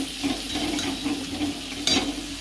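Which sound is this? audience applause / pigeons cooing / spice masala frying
spice masala frying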